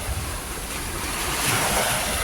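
Sea waves wash onto the shore in a steady rushing roar, with wind buffeting the microphone and no voices.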